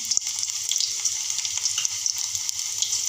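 Sliced onion frying in a pan for a village-style chawli usal, a steady close crackling sizzle with a few faint stirring scrapes, no voices.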